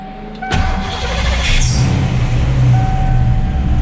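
An engine cranks and catches with a sharp burst, then settles into a loud, steady rumbling idle close by.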